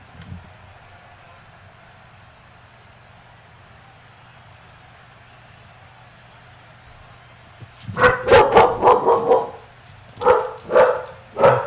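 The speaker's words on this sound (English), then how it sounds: "We do have a dog, so he is going to bark, or she's going to bark her little tail off." A small dog barks in a quick burst of loud, close yaps after several seconds of quiet room hum, pauses briefly, then barks again two or three more times.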